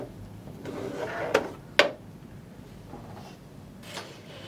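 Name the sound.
removing the extension table from a Janome sewing machine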